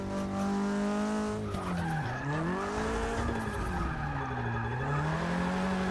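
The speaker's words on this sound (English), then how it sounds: "Getting the hang of drifting here again" A car drifting in the racing game Forza Motorsport 6 played on a Logitech G920 wheel, tires squealing in long wavering howls over a roaring engine that rises and falls, loud and continuous.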